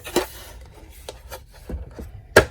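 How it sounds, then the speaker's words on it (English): A Tim Holtz deckle edge trimmer working paper, giving several short, close scraping and tearing strokes in an uneven rhythm, with a sharper final stroke. "I'm going to use this new Tim Holtz Deckle edge trimmer"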